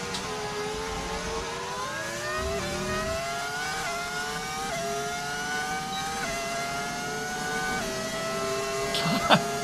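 F1 25 racing game car with an audio mod, its engine revving steadily through upshifts with rising and dropping pitch, loud and continuous, with a brief burst near the end.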